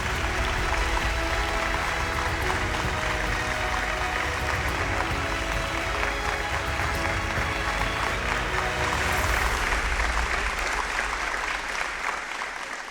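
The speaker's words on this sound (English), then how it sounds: "Again, a big round of applause to each and every one of our sponsors." A crowd at a chamber of commerce awards event gives sustained, dense applause for sponsors, a steady clapping roar lasting throughout with no talk.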